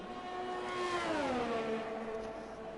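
A Ferrari race car engine in a racing video game on the Brazil circuit, a steady high whine that drops in pitch as the car lifts and downshifts, then holds lower, heard alone.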